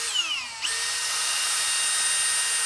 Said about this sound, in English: drilling for the bump stop